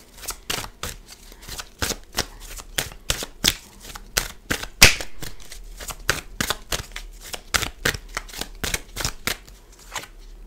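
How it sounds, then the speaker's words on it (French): Tarot cards are shuffled in a long run of crisp riffling bursts and snaps, rapid and fairly regular, heard up close with no talking. "On va bien battre."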